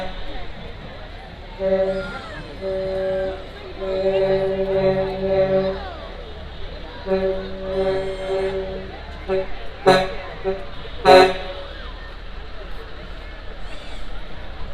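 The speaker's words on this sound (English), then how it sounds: "We're going to hear that air horn." A truck air horn blasts twice, short and loud, at a grand floats parade during a strawberry festival in West Tennessee, following a stretch of sustained musical tones and crowd murmur.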